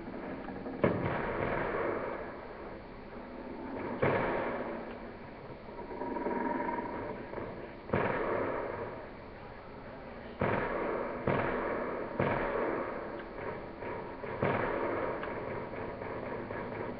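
Repeated grenade blasts in the Call of Duty Black Ops II Zombies farm map, several sharp booms spaced a few seconds apart over steady game noise, with no talk.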